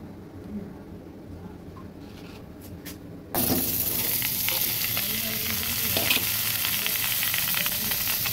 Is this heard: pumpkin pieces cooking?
yes